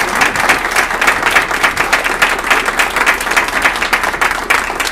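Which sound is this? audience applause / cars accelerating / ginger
audience applause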